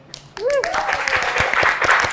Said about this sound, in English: Claps to our panelists, and thanks to our audience too